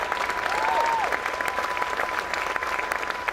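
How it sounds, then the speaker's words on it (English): A crowd at a presidential economic speech applauds steadily throughout, dense clapping at an even level, with a faint steady tone and a brief electronic warble early on. "if we could give them a round of applause"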